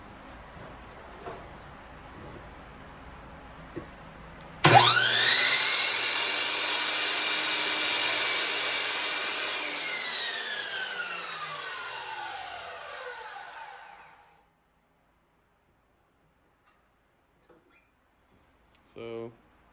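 A Harbor Freight dual bevel compound miter saw spins up sharply and bites through a small 1x2 poplar strip, its loud whining cut lasting several seconds before the blade winds down into quiet, with a faint click afterward.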